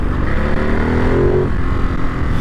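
A 2022 Ducati Monster motorcycle idles with a steady, low engine burble, holding close and even throughout with no talking over it.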